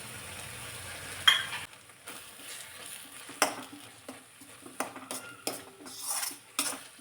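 A curry sautéed in oil with red chilli powder is stirred in a pan, with repeated scraping and clinking spatula strokes over a faint sizzle, close and moderately loud, with no talking.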